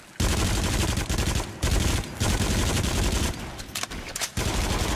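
Sustained machine gun fire in the VR shooter Until Dawn: Rush of Blood, loud and close, a dense rattling stream broken by a few brief pauses.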